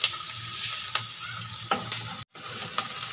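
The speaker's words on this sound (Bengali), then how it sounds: "পেঁয়াজটাকে আমি হালকা ভেজে নিব।" Chopped onions fry in soybean oil in a pan with a continuous close sizzle, punctuated by a few spoon clicks as they are stirred.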